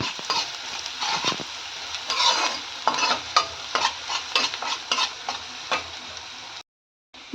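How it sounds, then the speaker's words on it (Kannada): Onions frying in hot oil for a soya chicken dish, with a steady close sizzle and repeated scraping stirs of a spoon in the pan. Everything cuts to silence near the end. "ಎಣ್ಣೆ ಬಿಸಿ ಆಗ್ತಾ ಇದ್ದಂಗೆ ಈರುಳ್ಳಿ ಹಾಕೋಣ"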